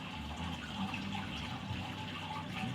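Sparge water pours steadily over a grain bed during an all-in-one mash-and-boil homebrew beer day, a continuous close splashing, trickling wash without pauses.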